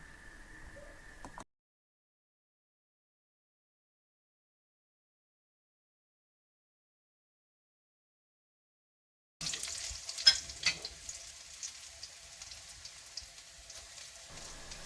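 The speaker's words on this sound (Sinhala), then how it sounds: "කලින් බැදගත්තු ලුණු ටික අපි දැන් තාච්චියට දමාගමු." Onions fried beforehand are added to a hot pan, a steady sizzle with stirring scrapes after a long silent gap, fairly close and loud with no voices.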